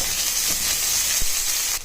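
Onions hit hot oil with popped mustard seeds, giving a loud, close, steady sizzling hiss with a couple of faint pops before it drops off at the end.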